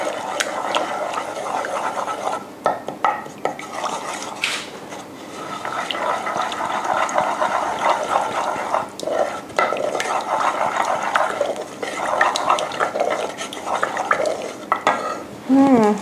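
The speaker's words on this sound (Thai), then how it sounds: "แล้วก็คนให้เข้ากัน" A navel orange cake batter with grated orange zest is stirred by hand in a bowl, with steady scraping and clinking of utensil against the bowl, fairly close and continuous, plus some background kitchen noise.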